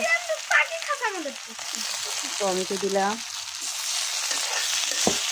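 Steady sizzling of eggs, ginger paste and garlic paste frying in hot oil runs throughout, with a person speaking briefly over it at the start.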